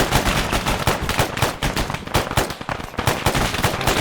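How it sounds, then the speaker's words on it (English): Rapid rifle fire with iron sights in Arma 3, shots cracking loud and close in quick bursts with brief pauses, almost continuous over the whole stretch. "I went through like a whole mag right there and I missed the entire time"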